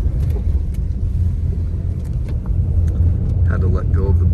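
A car grinding off-road through 18 inches of deep snow, a heavy, steady low engine rumble with muffled crunching, close and continuous, with a voice coming in briefly near the end.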